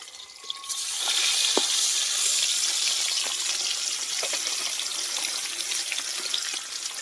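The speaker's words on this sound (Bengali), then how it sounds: "এদিকে মাছটা ভাজা হোক" Rohu fish pieces frying in hot oil give a steady, close, moderately loud hiss and crackle that holds for the whole stretch with no voices.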